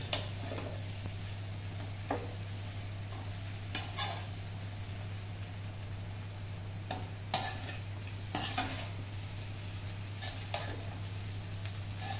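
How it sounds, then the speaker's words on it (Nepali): Beaten rice (chiura) is stirred and lightly fried in a pan, a spatula scraping in short, irregular bursts over a soft sizzle and a steady low hum. "अलिअलि भुट्नुपर्छ मजाले।"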